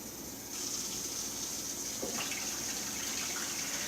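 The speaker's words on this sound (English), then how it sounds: "And then I start filling my pan up with water." Tap water running into a cooking pan while preparing a seafood boil: a steady hissing stream that rises in pitch and fullness after a half second, with faint clinks of the pan partway through.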